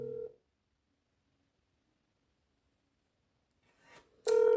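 Telephone keypad tones are heard as someone dials a call: one short beep, a long stretch of near silence, then a brief rustle and another loud tone burst at the end.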